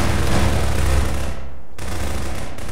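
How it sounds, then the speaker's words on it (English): Rapid automatic gunfire rattles in a Prop Hunt game, a loud dense burst that cuts off abruptly, followed by a short pause and then more sustained shooting. "These guys are just shooting everything."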